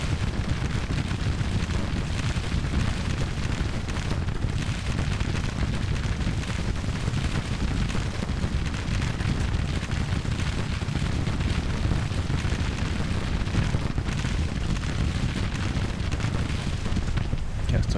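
Continuous rumbling barrage of distant artillery shelling in the Grand Tactician strategy game, dense booms and blasts blending into a steady loud roar with no voices over it.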